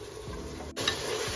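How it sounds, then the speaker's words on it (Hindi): Mixed vegetables for pulao stirred and frying in a pot: a steady close sizzle with soft scraping of the spoon, no voices. "सब्जी हमारी ये देखिए भून गई है"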